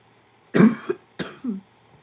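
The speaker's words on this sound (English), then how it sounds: "This cough is still here." Two sharp coughs close up, each followed by a short rasping catch of breath, separated by a brief pause.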